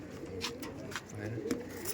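Punjabi pigeons cooing in soft, low repeated bursts, overlapped by nearby talking voices and scattered sharper chirps.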